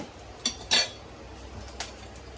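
A metal spoon taps against a cooking pan while adding mustard seeds, giving a few sharp clinks, with one louder scrape-clink in the middle and a faint tap afterward over quiet kitchen background.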